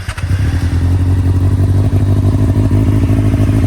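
Kawasaki ZX-6R 636 sport bike engine idling close by, a loud steady low throbbing rumble with fast regular pulses and a slight rough catch near the start.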